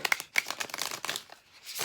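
Tarot cards being shuffled by hand during a reading, soft quick riffling and flicking bursts, close and quiet, with no talking.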